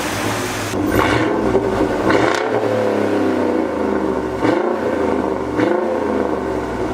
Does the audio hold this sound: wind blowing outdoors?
no